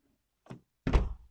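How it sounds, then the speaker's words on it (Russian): A damaged Honda Civic door, sagging after a crash so it misses the latch, gives a light knock and then a heavier, close, hollow thud as it moves, with no talking. "Дверь открывается, попадает мимо замка."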